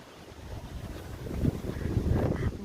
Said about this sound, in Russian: Послушайте, какой шквалистый ветер.